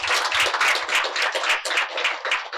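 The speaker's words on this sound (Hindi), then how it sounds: "उसके लिए सबसे पहले ताली बजनी चाहिए।" Audience at a training session clapping, a close, bright burst of hand claps with a loose pulsing rhythm that stays steady and fairly loud throughout.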